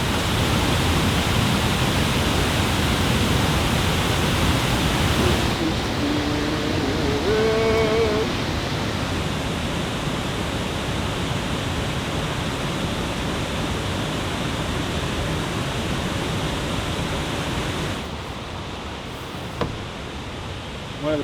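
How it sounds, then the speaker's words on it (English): Remote wilderness waterfall roaring steadily as a broad, constant rush of falling water, close and loud for the whole stretch, with a brief faint tone partway through. "One of the prettiest waterfalls I've seen,"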